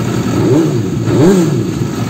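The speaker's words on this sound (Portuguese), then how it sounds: "o ronco da bicha é bonito" A 2006 Suzuki SRAD 750 motorcycle engine rumbles steadily and gets two quick throttle blips, each rising and falling in pitch, heard up close.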